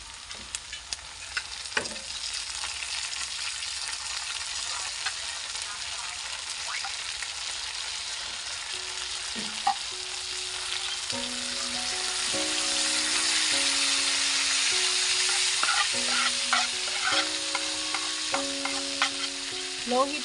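Chicken legs fry in a pan over low heat with onions and garlic underneath, giving a steady broadband sizzle throughout, with occasional stirring clinks and scrapes and faint tonal hums in the second half.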